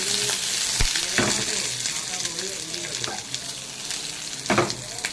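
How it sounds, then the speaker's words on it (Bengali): Onion frying in a little oil in a pan, a close, continuous sizzle broken by several sharp scraping stirs and clinks of a spatula. "শুধু আমার কাঁচা গন্ধটা যাওয়ার মতন করে পেঁয়াজটা কিন্তু আমি ভেজে নেব"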